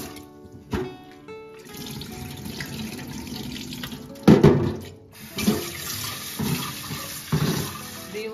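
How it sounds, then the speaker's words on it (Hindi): Moong dal being washed under a running kitchen tap, with water gushing into a vessel and several louder splashes and sloshes as the lentils are rinsed by hand; no talking. "मैं अभी मूंग दाल को वॉश कर रही हूँ।"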